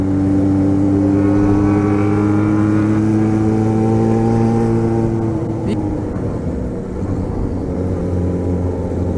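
Motorcycles, including a Yamaha XJ6 carrying a passenger through tight curves, accelerate with a steady, droning engine note that rises and shifts in pitch, loud and close, mixed with wind and road noise.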